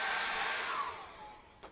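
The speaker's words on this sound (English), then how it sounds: "You can use a hairdryer, which is what I'm going to do now." A hairdryer blows steadily on wet acrylic paint, a loud continuous whoosh that gradually fades, with a brief bump near the end.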